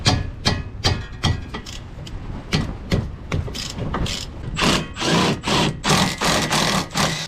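A ratchet wrench breaks loose and turns a 17mm nut and bolt on a 1992-95 Honda Civic during a traction bar install, giving close, sharp clicking bursts that begin scattered and then quicken into steady rapid ratcheting.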